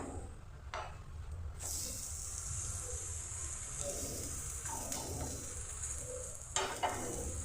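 A besan pola gram flour pancake sizzles softly in an oiled pan as it is flipped and roasted, a quiet, steady fizz broken by a few light scraping taps.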